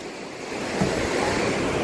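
Ocean waves breaking on the shore, a close, rushing surge that swells midway, with wind buffeting the microphone and no talking.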